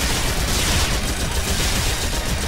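Dense, continuous crackle of gunfire in Phantasy Star Online 2, rapid overlapping shots forming a steady loud barrage with no pauses.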